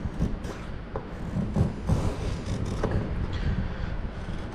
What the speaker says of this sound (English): just do a scrape